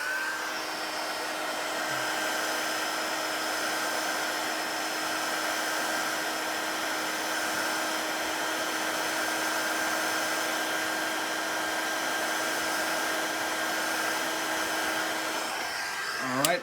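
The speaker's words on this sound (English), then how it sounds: "use the heat gun to remove the label safely" A heat gun blows continuously on the label of an Xbox One controller, giving a steady, close, high-pitched whirring drone that holds unchanged to the end and then cuts off with a brief click.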